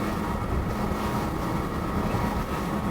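Engines of a Galeon 325 GTO motorboat at speed as the throttles are eased back, giving a steady loud drone with rushing water and wind noise throughout.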